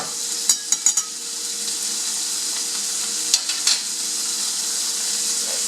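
Tilapia fillet sizzling in a pan with cherry tomatoes, a steady close hiss punctuated by a few sharp clinks of utensil against the pan.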